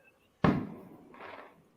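A single sharp firework bang goes off outside, followed by a decaying rumble and a fainter second crackle.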